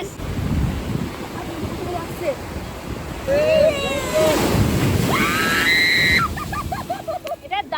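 Sea waves roll onto Digha beach in a continuous close surf wash with wind buffeting the microphone, while people talk and call out over the breaking water.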